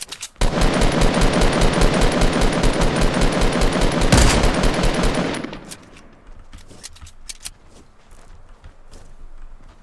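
Sustained automatic gunfire in Fortnite, a rapid, loud stream of shots for about five seconds that then cuts off, leaving scattered fainter shots and footsteps in the distance.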